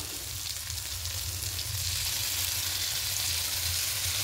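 Whisked sour yogurt hits a dried-out fried spice paste in a pan, making a loud, even sizzle that crackles steadily up close with no voices.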